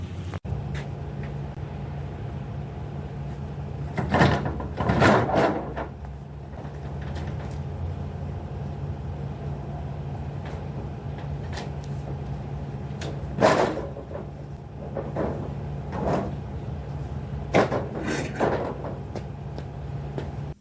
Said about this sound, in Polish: otworzyć drzwi.